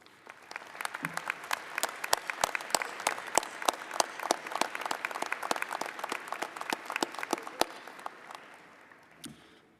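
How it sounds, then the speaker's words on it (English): A commencement crowd applauds the university faculty with sharp, dense clapping that swells, holds for several seconds, then thins and fades out near the end. "and for those present to join me in applauding them."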